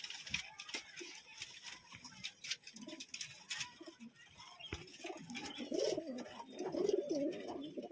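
High-flying pigeons in Murshidabad coo softly in a low, bubbling rhythm that grows stronger toward the end, mixed with light pattering and rustling at close range and faint voices in the background.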